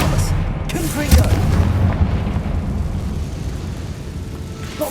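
A Confringo spell explodes in Hogwarts Legacy, a loud booming blast with a rumbling low-end tail and scattered crackling, followed by sustained combat noise.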